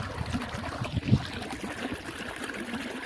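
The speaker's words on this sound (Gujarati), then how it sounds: "આપણે અહીંયા મસ્ત મજાનું અત્યારે પાણી આવવા માંડ્યું છે" Water trickling and gurgling steadily into an irrigation channel in a groundnut field, a continuous close flowing sound without pause.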